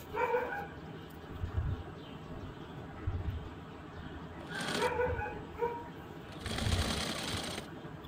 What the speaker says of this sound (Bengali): আমি কাপটা আগে সেলাই করে দিচ্ছি।